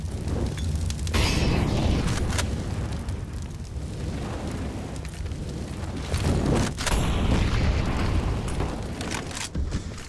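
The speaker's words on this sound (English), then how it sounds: "Incendiaries onto the ramp entrance." Incendiary grenades landing and burning at a ramp entrance in a CS:GO match on Vertigo, a steady roaring rumble mixed with sharp pops and gunfire bursts, loud and continuous throughout.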